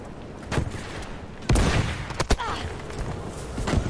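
Battlefield V gunfire: scattered sharp shots, then a loud cluster of close bangs near the middle and more cracks toward the end over a low battle rumble.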